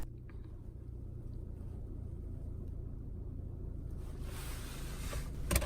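A car engine idles after restarting, a steady low rumble with no revving, joined near the end by a brighter broadband noise and a brief louder thump.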